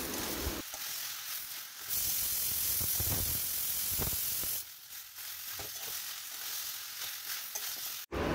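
Ground coriander, cumin and garam masala frying in a pan, heard as a close sizzling hiss that swells and fades in stretches, with intermittent stirring scrapes and no voices.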